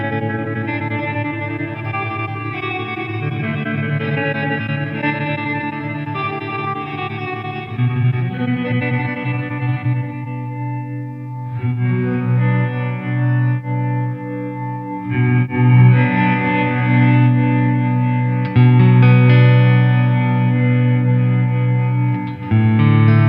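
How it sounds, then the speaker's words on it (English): Electric guitar played through a Walrus Audio LÜM pedal in mode 2 with added reverb, loud sustained chords and notes with a modulated, spacious wash trailing off between phrases, no talking. "mode 2 is the same as mode 1, but it adds a reverb to it"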